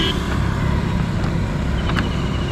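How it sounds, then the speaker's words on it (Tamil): A two-wheeler engine with a damaged crank and a seized engine churns at a petrol bunk, making a rough, continuous, low mechanical rumble with a rattling texture that stays close and loud throughout. "ஸோ பாருங்களேன் சவுண்டை மட்டும். இது ஸ்டார்ட்டே ஆக மாட்டேங்குது."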